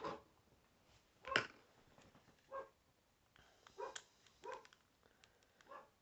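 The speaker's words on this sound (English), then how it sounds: "I've got a 6-month-old Australian Shepherd, and he's scared of everything. The wind blows, he barks." Six-month-old Australian Shepherd puppy barking outside in the evening, a few short muffled yaps spaced irregularly, distant and faint.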